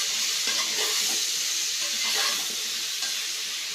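Spices frying in hot oil in a pan for a drumstick, brinjal and raw mango sambar, a steady bright hiss and sizzle with soft scraping as they are stirred, close and continuous.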